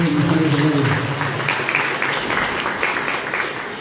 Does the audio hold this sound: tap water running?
no